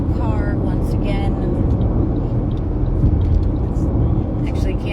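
Steady low road rumble inside a car heading toward Boynton on a veterinary trip with a dog, continuous and fairly loud throughout, with faint talking over the engine drone.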